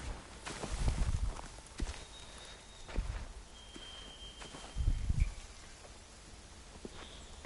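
Horses' hooves in The Walking Dead: several clusters of hoofbeats and stamping, fairly close but quiet, with brief rustling between them.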